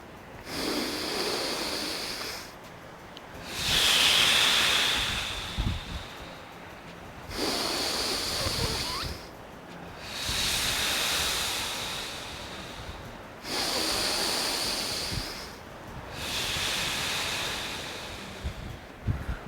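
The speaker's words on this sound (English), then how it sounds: "Inhale through the nose, exhale through the mouth" Slow, deep breathing during a functional workout cooldown: long airy inhales through the nose alternate with exhales through the mouth, about four full cycles, close to the microphone and alone.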